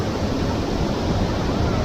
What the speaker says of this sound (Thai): เดี๋ยวเราจะเดินลงไปดูด้านหน้าน้ำตกกันค่ะ